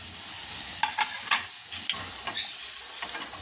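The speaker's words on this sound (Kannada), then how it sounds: "ನೆಕ್ಸ್ಟ್ ಏನಪ್ಪ ಅಂತಂದರೆ ಈರುಳ್ಳಿ ಮತ್ತು ಟೊಮೊಟೊ ಹಾಕ್ಬಿಡೋಣ" Onion and tomato frying with spices in a pan for a festive Ugadi holige saaru, a steady close sizzle broken by several sharp clinks and scrapes of stirring, with no voices.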